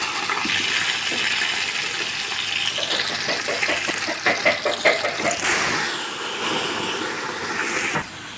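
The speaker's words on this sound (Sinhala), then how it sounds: "ඔන්න බලන්න වතුර එකතු කරගත්තා" Water poured into a cooking pot of fish machbus, a steady rushing gush close by that surges in the middle before trailing off.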